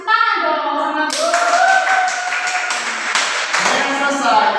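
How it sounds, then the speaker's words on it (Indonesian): Schoolchildren clapping their hands in a classroom, a short burst of quick claps with children's voices and cheering mixed over it. "Kasih tepuk tangan dong sama Bu."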